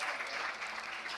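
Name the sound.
audience applause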